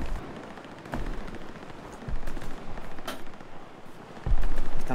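Gunfire in the World War II shooter game Hell Let Loose, with a few sharp shots and rattling bursts over a dense, noisy battle din that swells louder toward the end.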